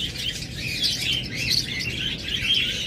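A green splendid parakeet, a female kept as a cage bird, chirps continuously in high, busy twittering calls, close and steady with no voices over it.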